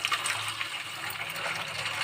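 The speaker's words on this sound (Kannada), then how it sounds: "ಇದಕ್ಕೆ ಅರ್ಧ ಚಮಚಷ್ಟು ನೀರನ್ನು ಸೇರಿಸ್ಕೋಬೇಕು." Water splashes and gushes steadily as a small splash is poured into a pan of fried chapati dough strips for payasa, a continuous close liquid pour with no talk.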